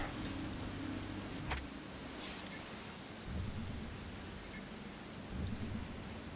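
Rain falls steadily in Metroid Dread with a soft, constant hiss, and low rumbles roll through now and then, fairly quiet with no talking.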